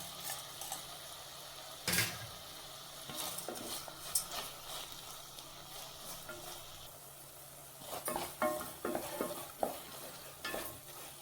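Tomatoes and onions sauté in a pan for Karnataka-style bisi bele bath, with soft ongoing sizzling broken by close spoon clatters and scraping stirs, busier toward the end.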